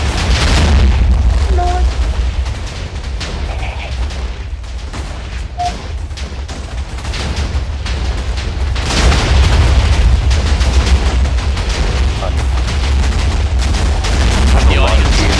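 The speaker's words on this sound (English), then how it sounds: "That really is quite an explosion." Loud explosion with a fire at a live debate event, a dense continuous roar of booming rumble that surges again midway and stays heavy to the end, drowning out any voices.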